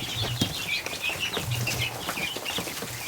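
Muscovy duck and ducklings inside a farm barn, with a scatter of high peeping chirps and soft calls repeating over a low background hum, close and moderately loud with no speech.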